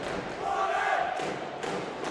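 Boxing arena crowd roaring loudly, with repeated drum bangs standing out and chanting of a fighter's name blended into a dense, continuous wall of noise.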